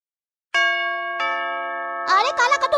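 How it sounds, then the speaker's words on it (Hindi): A home doorbell rings early in the morning with a clear two-note ding-dong chime, and a voice begins speaking right after the second tone. "घंटी बजा रहा, कोई जाके देखो ना कौन है इतना सुबह सुबह"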